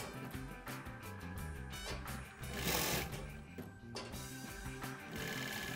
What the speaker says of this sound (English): any domestic sewing machine will be able to sew the hem